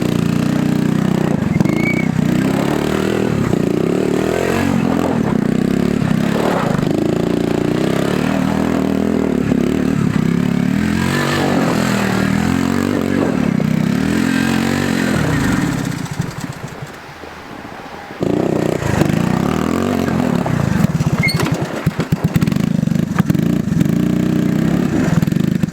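A Honda ATC 110 three-wheeler engine runs loudly and close in below-zero cold, a rough, buzzing small-engine drone that surges with throttle, dips briefly and then picks back up.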